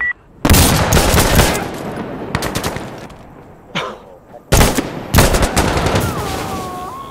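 M60 machine gun fire in a video game, loud close bursts of automatic fire separated by short pauses, with a few single shots in between.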